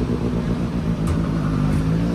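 Honda CB650R motorcycle fitted with an Orion exhaust pipe, a loud close engine note with a steady throaty rumble that swells slightly through the short burst.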